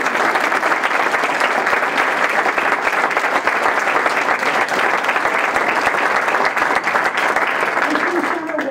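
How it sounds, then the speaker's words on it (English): Sustained, dense applause from an audience following a cybersecurity center partnership announcement, a loud continuous roar of clapping that holds steady for several seconds, with faint voices mixed in. "I think that deserves a round of applause."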